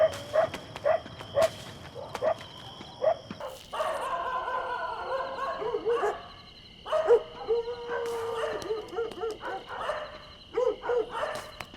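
Dogs in a film scene howl and bark, with sharp repeated barks at first, then sustained wavering howls and whimpers mixed with more barking, all fairly close and clear with no talking.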